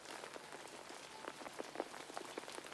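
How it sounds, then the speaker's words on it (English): Soft rain patters gently and steadily, faint scattered drops tapping on a surface, heard on its own without any voices. "The rain was a soft lullaby, a gentle melody of soothing sounds."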